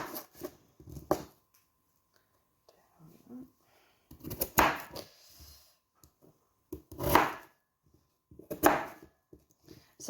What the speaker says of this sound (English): So I'm going to chop each potato.